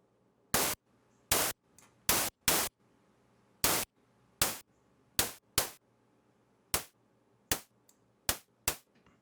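White noise sent through a VCA and shaped by a short decay envelope, giving about fourteen sharp, loud noise bursts that each snap open and fade quickly, spaced irregularly with quiet gaps between them and no talk.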